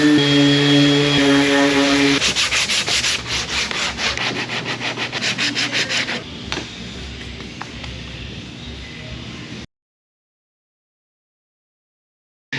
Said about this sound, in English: it's a little bit of surface prep, just sandpaper,